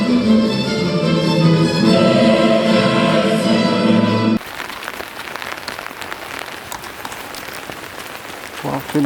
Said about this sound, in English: It's raining crazy.